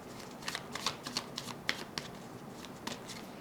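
Oracle cards are shuffled by hand close up, giving a quick run of light, crisp riffling and tapping clicks at an uneven rhythm.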